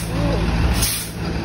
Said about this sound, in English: Ben and Jerry's truck.